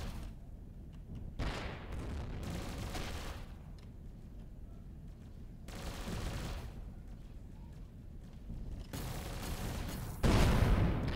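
Spaceship weapons fire in the space game Avorion as dense bursts of rumbling, booming shots that come in waves separated by quieter stretches, loud and continuous with heavy low end.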